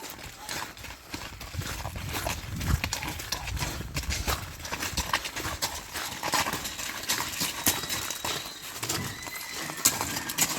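A mare's hooves clip-clop in an uneven walking rhythm on firm ground outdoors, with scattered rustling, shuffling and occasional faint animal noises around.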